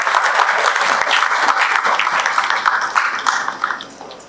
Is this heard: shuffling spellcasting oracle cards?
no